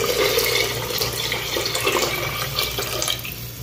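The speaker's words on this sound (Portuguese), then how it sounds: "E vou colocar mais um pouco aqui de água." Water is poured from a bowl into a cooking pot, a steady, close splashing rush that runs unbroken and eases slightly toward the end.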